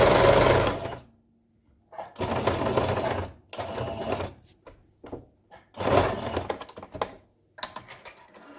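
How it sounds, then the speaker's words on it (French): Sewing machine stitching a seam across three fabric layers of a face mask, running in several close bursts of rapid mechanical chatter separated by silent pauses. "on fait donc cette fameuse couture ici, le long en démarrant du coin, en allant jusqu'au coin pour les trois tissus"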